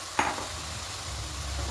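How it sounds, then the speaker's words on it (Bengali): Rice and dalia pulao being mixed into water in a pan: one sharp scrape of the spoon, then a steady low bubbling sizzle, close and alone. "খুব ভালো করে মিশিয়ে নেব।"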